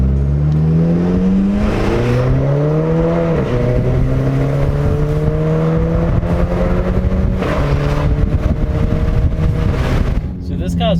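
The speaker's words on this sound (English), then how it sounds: "this car also has its exhaust done by power pipe, so it sounds very nice. It's deep" A VW Golf 5 GTI fitted with a K04 turbo kit and Powerpipe exhaust accelerates hard, its deep engine note climbing steadily through gears close to the microphone, with a voice talking over it.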